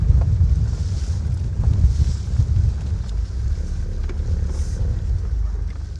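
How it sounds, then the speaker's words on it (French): Strong wind buffets the microphone outdoors in wild Spanish countryside, a loud continuous low rumble with gusts swelling and easing across the whole stretch, no voices. "Waouh, le vent."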